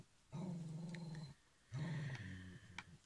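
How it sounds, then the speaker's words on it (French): A dog growls indoors in two low, rumbling bursts, the second longer and wavering, fairly quiet and close, with no talking. "Il est pénible ce chien,"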